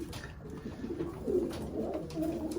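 Soft, low cooing from pigeons, repeated several times at a moderate distance over faint background noise.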